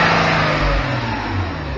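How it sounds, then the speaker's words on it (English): A car engine idling smoothly and quietly at close range, a steady low hum with faint harmonic tones and a slight swell in the middle, no talking over it. "As you can hear, the engine is running really quiet."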